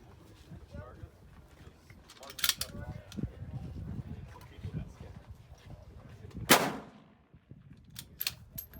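Sharp rifle gunshots at a precision rifle (PRS) regional match in Wenatchee, two loud cracks a few seconds apart with a fainter one after, over steady outdoor background noise and talking voices.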